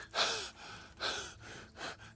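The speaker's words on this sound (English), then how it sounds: "Jeez, you're puffing and panting." Heavy puffing and panting from a character in Kingdom Come: Deliverance, three breathy gasps in a steady rhythm, close and moderately loud with no talk.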